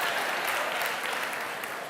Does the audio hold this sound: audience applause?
yes